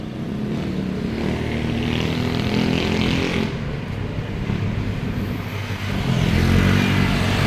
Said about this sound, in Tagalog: yung truck ng basura, maaga pa mangulikta ng basura